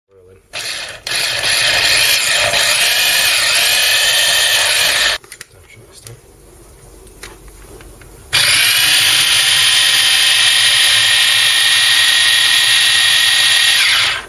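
A Kenwood electric mini chopper with a 0.35-litre bowl and two speeds whirs loudly in a steady high-pitched drone, cuts out briefly to a low rattle, then starts again at full strength.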